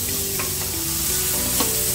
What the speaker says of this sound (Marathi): यामध्ये आपण टाकणार आहोत किसलेला कांदा, किसून घेतलेला छोटे कांदे 2 ते किसलेले.